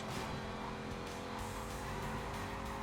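Race car in the video game NFS Carbon accelerating hard, with a steady, dense engine roar and faint tire noise throughout, loud and close.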